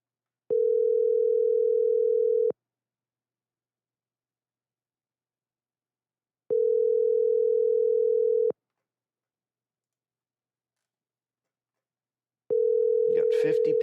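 A telephone ringback tone repeats during a call while waiting for an answer: three steady two-second tones spaced by silent gaps, loud and close, with a burst of noise starting over the last one.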